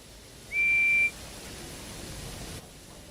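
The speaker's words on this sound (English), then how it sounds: "Just then, the guard's whistle blew, and the two engines set off." A guard's whistle in the Wonders of Sodor railway game, a single clear, steady high-pitched blast lasting about half a second over a quiet background hum.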